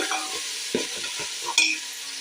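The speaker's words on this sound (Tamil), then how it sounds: "இப்போ தக்காளி நல்லா வதங்கட்டும்." Tomatoes sautéing in oil in a pan for chicken biryani give a steady sizzle with a few scraping stirs and one sharper clink near the end, with no voices.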